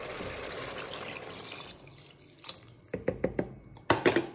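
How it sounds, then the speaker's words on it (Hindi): Water pours into a pot of chana pulao masala, a steady liquid rush for the first couple of seconds, then a few short splashy bursts and drips toward the end, close and fairly quiet with no talking. "अब हम इसमें पानी ऐड कर देंगे।"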